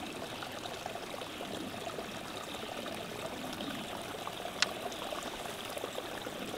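Water pours and splashes steadily into a stream at an outdoor fishing spot, a continuous broadband rush with no pauses, moderately loud and even throughout, broken only by one sharp brief click.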